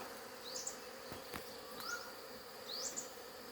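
Honey bees buzzing around a large wild nest outdoors, a faint continuous drone with a few brief close fly-bys passing near, no talking.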